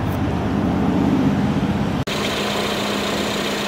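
Engine of a Lincoln MKC with a 4-cylinder 2-liter engine and 6-speed automatic, a steady low idling hum that cuts out abruptly midway and resumes as a thinner, quieter drone.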